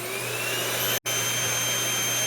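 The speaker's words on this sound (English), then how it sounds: "Upright vacuum." Steady, loud whir of an upright vacuum cleaner running off a portable power station, a continuous motor drone with one very brief dropout near the middle, no voices.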